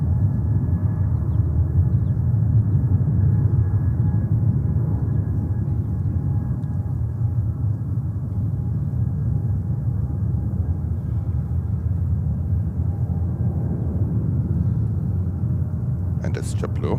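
A JetBlue airliner at JFK airport gives off a steady, loud, low rumble that holds evenly throughout, with no talking over it.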